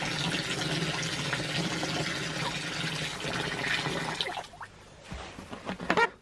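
Warm water pours steadily into a cup for about four seconds, then stops, followed by a few light clinks and small splashes.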